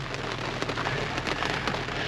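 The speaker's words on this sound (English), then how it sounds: "We were not expecting to get rained on today, that's for sure." Rain pours steadily outdoors at a crawfish boil, a loud, dense hiss of drops striking surfaces close by, with scattered sharper splats and no talking.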